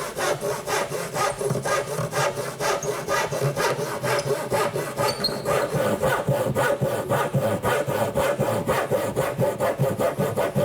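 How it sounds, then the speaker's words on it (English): A back saw cuts a notch into the top front corner of a wooden ledge for a Shaker woodbox. Steady, rhythmic push-pull rasping strokes sound close and loud, repeating evenly throughout with no talking. "I'm going to use my back saw"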